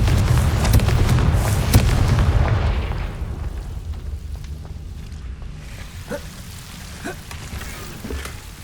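Confringo fire spell explosions in a Harry Potter video game make loud, rumbling booms that merge into a dense roar, then ease into quieter crackling with a few sharp pops.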